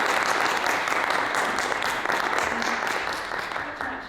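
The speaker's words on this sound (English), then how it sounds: "So can we have a round of applause, please?" Audience applause at a live storytelling event, a dense steady wash of many hands clapping that fills the whole stretch and eases off slightly toward the end.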